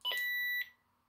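Electronic beeps from a PRC 152 military handheld radio: a loud, steady high-pitched tone lasting about half a second, with a short pitch step near the start and a softer click at the end, heard alone.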